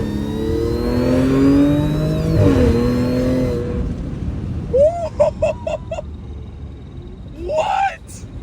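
A supercharged Audi S5 engine revs and downshifts, its rising and falling tone loud and close from inside the car, followed by sharp blips between shifts, with a person's voice over the engine.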